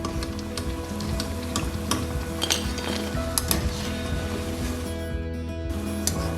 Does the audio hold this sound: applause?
no